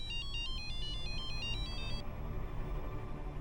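A phone ringtone plays a repeating electronic melody of short pulsed tones for about two seconds, then stops, leaving quiet room noise.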